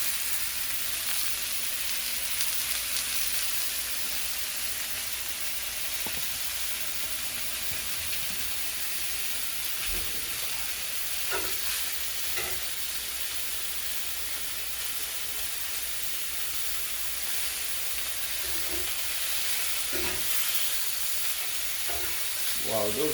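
Chicken sizzles and fries steadily in a hot cast iron skillet, a constant bright hiss filling the whole stretch, with a few faint knocks and shifts of the pan in the background.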